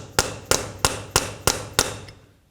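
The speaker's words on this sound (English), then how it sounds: "Then use a hammer and a punch." Six sharp metallic hammer blows strike a punch in a steady rhythm, driving the front CV axle of a 2007-or-later Toyota Tundra free from the knuckle hub, each hit ringing briefly, close and loud, with no talking.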